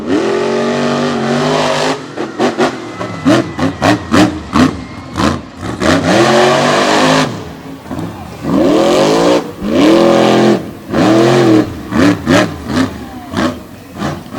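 A Hoosier-based C10 monster truck from Arlington, Vermont, revs hard at a 2021 TN/GA State Line arena show. The engine surges and drops repeatedly in loud bursts with brief pauses between them, close and dominant throughout.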